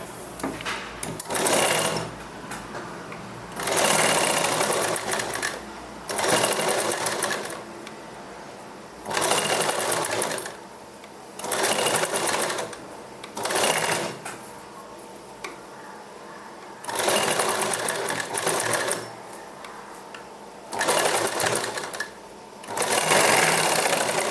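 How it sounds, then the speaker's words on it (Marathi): Sewing machine double-stitching over a seam on a potli button for a puff sleeve, loud steady whirring runs of several seconds each, repeated about eight times with short quiet pauses between, no voices. "त्या शिलाईवर आपल्याला डबल शिलाई मारून घ्यायची आहे"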